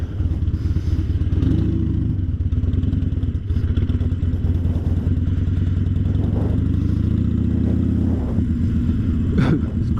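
A motorcycle fitted with new LED headlights and front blinkers, ridden at night, its engine rumbling loud and close with steady, throbbing revs and a brief climb in pitch near the end.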